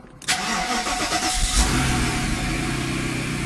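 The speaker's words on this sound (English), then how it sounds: "The car starts up." Mercedes with a bad throttle body, cold-started after sitting overnight: a sharp cranking catch, a brief rising rev, then it settles into a steady close idle, with no voices.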